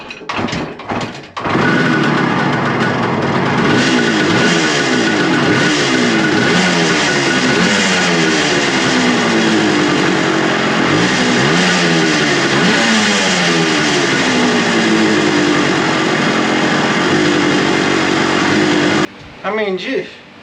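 A Suzuki motorcycle is kicked over with a few short thumps, then catches and runs, its engine revving up and down loudly and without a break for most of the stretch before it stops abruptly near the end.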